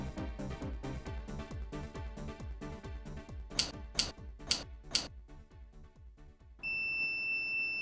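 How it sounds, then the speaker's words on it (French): A multimeter's continuity beep sounds while a circuit board trace is checked during a BMW VANOS fault diagnosis. The steady, close electronic tone starts after music and sharp clicks and holds to the end. "Bip, c'est bon, la piste n'est pas coupée."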